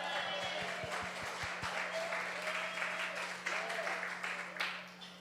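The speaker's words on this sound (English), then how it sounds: "Let's clap some more." An audience at a Sunday service at the Center for Spiritual Living in Fort Lauderdale claps steadily, a faint dense patter of applause over a low steady hum, with a few voices mixed in.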